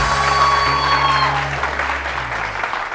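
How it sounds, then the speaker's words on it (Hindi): A studio audience at a TV morning show claps for itself, a dense continuous wash of applause that holds steady throughout, with tonal music or broadcast sounds layered on top. "जरा तालियां बजाइएगा अपने लिए"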